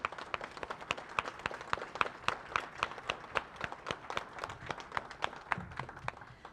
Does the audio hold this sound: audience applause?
yes